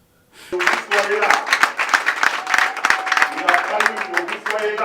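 Political rally crowd cheering and clapping through a speech by a politician, a dense, loud roar of applause with sharp claps and shouts that continues throughout after a brief quiet start.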